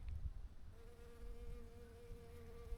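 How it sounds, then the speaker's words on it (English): Bees drone steadily around snowdrops (Galanthus voronovi) in full bloom outdoors, a soft continuous buzz that stays faint and even with no talking. "you can hear the bees working around"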